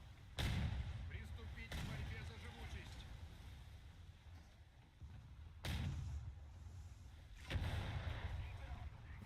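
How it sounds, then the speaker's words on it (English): Heavy naval gunfire strikes a player's ship in War Thunder, landing as four loud, booming impacts spaced a few seconds apart over a low rumbling background. "Who is shooting me?"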